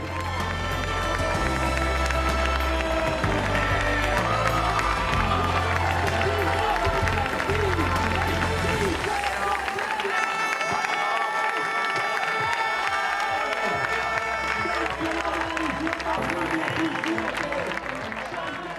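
Crowd at the finish of the 2017 Transgrancanaria ultra trail race cheering and applauding as the winner, Pau Capell, arrives, a loud sustained roar of shouts and clapping that eases slightly midway but carries on throughout.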